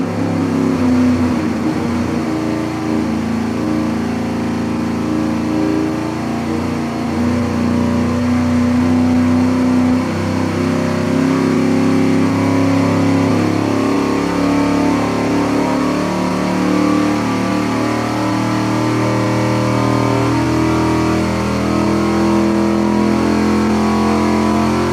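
A V8 engine on a dynamometer runs a slow test pull, a loud sustained roar whose pitch climbs gradually over many seconds, close and continuous with no talking.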